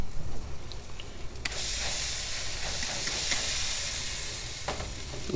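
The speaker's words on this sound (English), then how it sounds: "so we're gonna spritz that flame" Water is spritzed onto a flame under an outdoor grill, setting off a loud, close, steady hiss of steam and sizzling that starts suddenly and holds for several seconds. Faint crackles and a few sharp ticks sit in the hiss.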